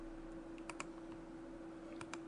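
Keyboard keys tapped in Blender, a few crisp close clicks arriving in quick pairs over a low steady hum.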